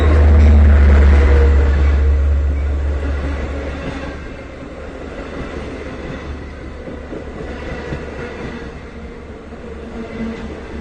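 Long Island Rail Road Cannonball train 2798, a double-deck non-stop express, passing at Westhampton on a summer day, with a loud deep rumble that eases into a steady rolling drone of wheels on track.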